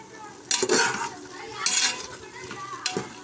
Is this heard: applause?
no